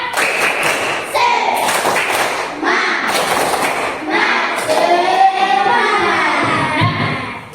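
A class in an Indonesian classroom claps a rhythmic spirit clap, loud patterned bursts of hand claps with pauses between groups, mixed with children's voices.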